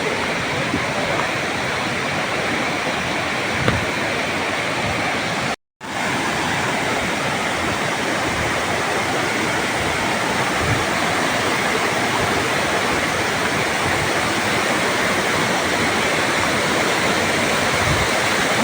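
A waterfall roars loudly and steadily, close by, as a dense, unbroken rush of falling water with no change in intensity and no clear talk over it.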